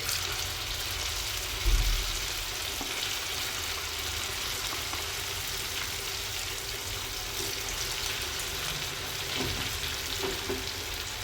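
A second batch of potato patties deep-fries in hot oil, giving a steady, even sizzle with a faint bump near the start and no talk.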